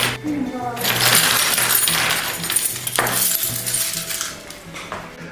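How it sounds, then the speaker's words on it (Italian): Bunches of keys tossed onto a kitchen table covered in clear Crystal film, a few jangling metallic clatters and clinks in quick succession, close by. "vi faccio vedere come lancio dei mazzi di chiavi sul tavolo"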